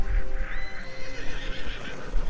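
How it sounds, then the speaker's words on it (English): A horse in a Western bounty-hunting video game whinnies loudly and close by, a drawn-out neigh lasting about two seconds, with faint hoof clip-clop underneath. "I gotta feed my horse."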